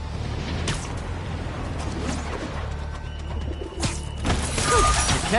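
A pigeon coos in Spider-Man (2018) during a city chase, with soft cooing calls over fluttering and street ambience, moderately close.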